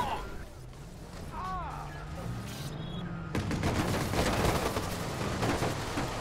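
Gunfire in Watch Dogs: a rapid run of loud, close shots breaks out partway through and keeps rattling to the end, following a quieter stretch with a rising siren-like wail.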